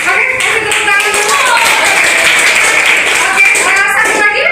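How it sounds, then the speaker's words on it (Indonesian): Students in a university teacher-education class clap their hands together, a steady loud patter of claps that fills the room while voices and chatter carry underneath throughout. "Oke, kasih tepuk tangan dulu."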